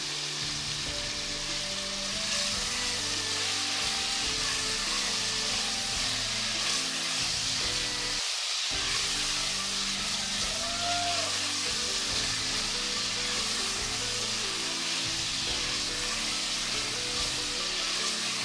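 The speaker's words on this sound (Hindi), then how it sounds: "इसको हम लहसुन अदरक के साथ अच्छी तरीके से फ्राई करेंगे।" Chicken frying with garlic and ginger in a pan, a steady crackling sizzle that runs throughout at moderate level, with a brief break partway through and no talking.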